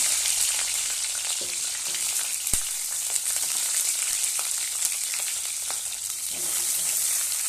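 Cauliflower florets fry lightly in a pan with a steady, close crackling sizzle, punctuated by a few sharp taps of a utensil against the pan, with no voices.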